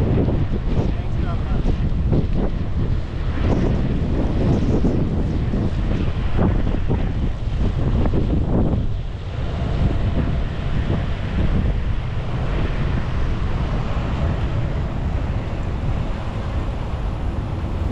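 Strong wind roars across the microphone while a cyclist rides along Marine Drive in Cox's Bazar, a loud continuous rushing buffet with gusty swells and a voice speaking underneath.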